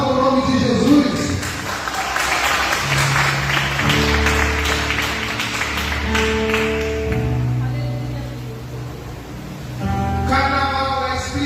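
A church congregation claps steadily, mixed with sustained keyboard chords that carry on after the clapping fades.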